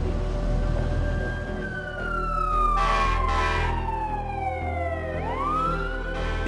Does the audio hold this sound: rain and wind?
no